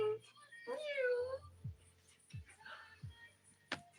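A voice imitates a cat's meow, a rising-falling drawn-out call, followed by softer talking and a couple of short sounds.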